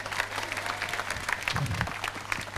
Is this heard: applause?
yes